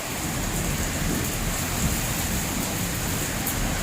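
A dense, steady downpour hisses without pause, heavy rain pounding surfaces in a storm, loud and continuous with a faint low rumble beneath.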